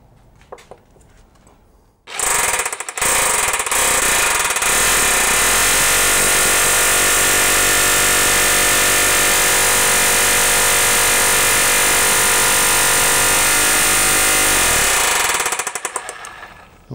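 A loud rotary hammer drill runs continuously and harshly on a stuck bolt of a seized Honda BF130 outboard motor for about thirteen seconds after a few brief starts, then stops abruptly.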